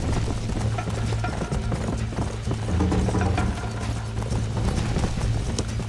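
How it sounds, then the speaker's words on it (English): In the Red Dead Redemption video game, a bucking horse produces busy hoof clatter and thumping with clanking tack-like rattles, a continuous, dense flurry of impacts close by. "Totally forgot about horse bucking off."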